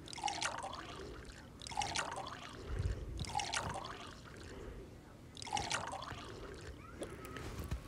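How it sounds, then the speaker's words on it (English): Drinks poured into cups at a New Year's gathering, several separate pours of liquid close by, each a short gurgling burst followed by a brief pause. "Here, I'll pour everybody's stuff."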